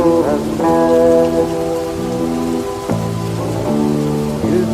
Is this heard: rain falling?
yes